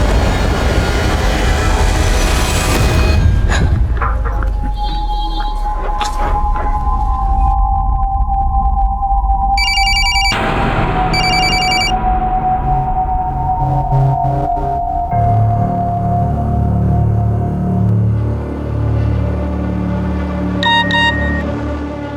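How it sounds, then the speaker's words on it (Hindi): A phone rings with short, repeating electronic ringtone bursts partway through, over a low rumbling drone of dramatic background music, as an urgent call comes in. "प्लीज़ मेरा फ़ोन पिकअप करो, अर्जेंट है"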